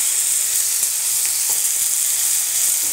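Coriander powder sizzles in a frying masala of tomato and onion for a country chicken curry, a bright continuous hiss with faint stirring scrapes, close and loud, with no voices.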